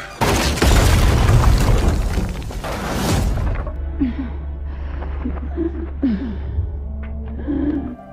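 Grenade explosions in a zombie horror film make a loud, roaring blast and rumble for about three seconds, followed by quieter scattered sounds over a low drone.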